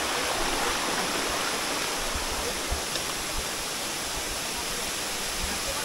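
A cliff waterfall swollen by the first monsoon rain roars loud and constant, a dense, unbroken rush of falling water filling the whole clip.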